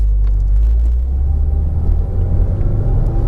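A turbocharged car climbing a steep hill, its engine giving a heavy low rumble that stays loud and steady from inside the cabin as it pulls under load.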